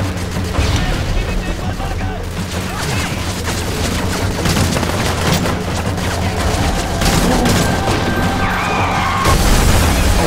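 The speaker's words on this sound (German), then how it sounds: "da explodiert es wieder." Explosions in Call of Duty: Modern Warfare 3: booms and crackling bursts pile up in a dense, continuous barrage, loud and close, with German voices speaking intermittently beneath.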